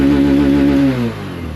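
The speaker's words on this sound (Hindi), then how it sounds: "ये आपने देखा इंजन साउंड।" Bajaj Platina 110 cc motorcycle engine revving hard at full throttle, a loud steady drone that then drops away as the throttle closes, with no talking.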